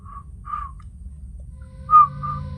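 Short whistled tones, a few brief notes with a louder one near the end, over a low rumbling background.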